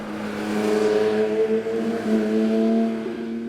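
A Porsche 992 911 GT3 Touring, the 70 Years of Porsche Australia Limited Edition, has its engine droning at steady revs with a clear, sustained tone that swells slightly. It sounds close and fairly loud, with no talking.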